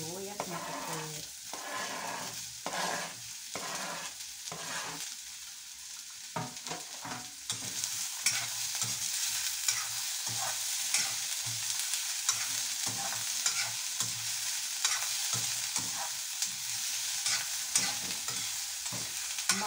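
White onion frying in a small, wobbly pan for Filipino lumpia shanghai, a soft sizzle under repeated stirring and scraping, quieter at first and then a fuller, steady hiss.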